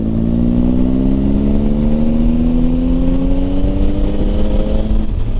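A motorcycle engine pulls steadily in sixth gear from about 45 km/h at low revs, its droning tone rising slowly and evenly without a stutter, loud and close throughout with no talking.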